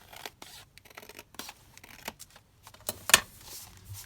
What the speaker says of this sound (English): So just need to trim that down quite a lot. I'll just trim it at the bottom as well.